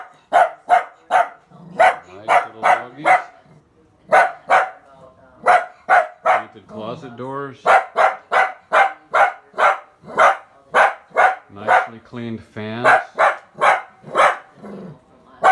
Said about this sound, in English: the nice little doggies barking in the other room